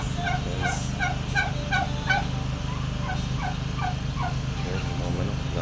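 Geese and chickens call nearby on a riverside farm in Taytay, Rizal, a run of short honking and gobbling notes repeating in quick bursts over a constant low mechanical hum.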